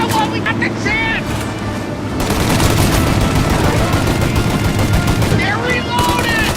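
Rapid gunfire rattles in the video game Mafia Definitive Edition, a dense, loud burst of repeated shots lasting several seconds, with voices shouting before and after it.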